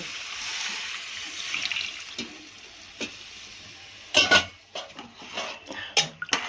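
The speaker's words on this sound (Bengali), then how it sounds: "এখন ওর মধ্যে জলটা ঢেলে দিব।" Water poured into a cooking pot of vegetables, a steady hissing pour followed by splashing and clinking bursts as the flow lands and the pot is handled.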